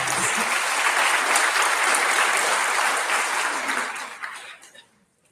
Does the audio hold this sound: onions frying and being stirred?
no